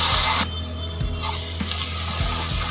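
Ginger garlic paste frying with onions in a pan for veg pulao, giving a continuous close sizzle broken by a few soft stirring knocks, with no talking.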